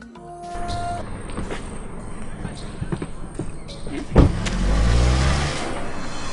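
A car sits close by with mechanical clunks, a sharp door-like thump midway and an engine rumble building toward the end, while people talk over it.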